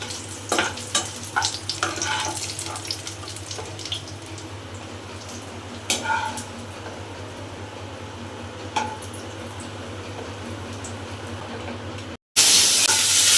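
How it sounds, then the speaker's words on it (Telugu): Cashews and onions frying in ghee in a pan for mutton dum biryani: a steady sizzle sits under repeated clinks and scrapes of stirring, close by with no talk, ending in a brief dropout and then a burst of louder hiss. "ఈ ఘీలోనే ఆనియన్స్ వేయించి పక్కన పెడదాం"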